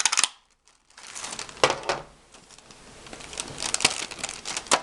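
A paper punch cutting through crinkly glassine paper, sharp crisp crunches and rustles in several bursts with brief gaps, close and moderately loud.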